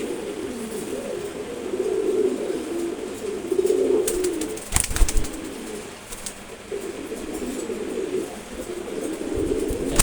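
A pair of Sobji Gorra pigeons, the male still in its cage, coos in low repeated phrases over steady background noise, with a brief rustle partway through.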